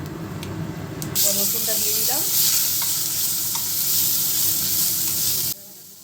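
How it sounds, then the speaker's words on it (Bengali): Onion frying in hot oil with cinnamon, cardamom and cloves, a steady loud sizzle with occasional stirring scrapes that cuts off near the end. "লাল লাল করে ভেজে নিচ্ছি পেঁয়াজটা"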